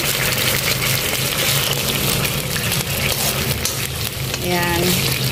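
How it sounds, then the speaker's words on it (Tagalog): Sardines sautéing in hot oil in a pan, loud steady sizzling and crackling spatter filling the whole clip, with a brief bit of voice near the end. "igisa lang natin yung ating sardinas"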